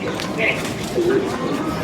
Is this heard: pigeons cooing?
yes